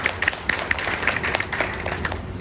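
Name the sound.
applause welcoming a speaker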